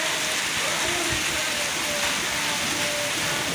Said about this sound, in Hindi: वो बारिश भी बड़ी तेज़ हो रही है